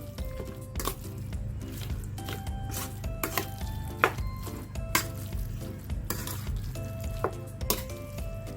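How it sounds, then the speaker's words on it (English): Garlic frying in a pan is stirred with a utensil, giving a steady soft sizzle under repeated sharp clinks and scrapes of metal against the pan at an irregular rhythm. "Mix it well."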